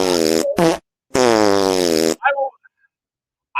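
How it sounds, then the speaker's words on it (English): Several fart sounds: two short tonal bursts, then a long drawn-out buzzing one lasting over a second, loud and close, followed by a few faint sputters and near silence. "Nice fart."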